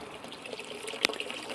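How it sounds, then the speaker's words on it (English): Water flowing through an aquaponics system as it rises toward the supply lines, a steady soft trickle and splash with one brief brighter drip-like splash midway, close and alone. "the water is coming up, just about ready to cycle and flow into our supply lines"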